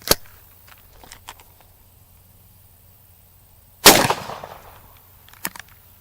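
A Midland Arms .410 shotgun loaded with number 8 shot fires outdoors while squirrel hunting: a sharp tick near the start, then one loud, close blast with a short rumbling tail, and a lighter snap afterward.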